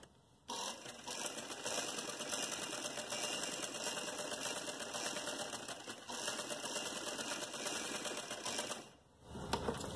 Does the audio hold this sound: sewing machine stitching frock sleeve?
yes